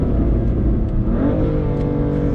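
A BMW F80 M3 Competition fitted with an aftermarket air intake, its engine droning steadily from inside the cabin before revving up with a rising whir, loud and close with no talk.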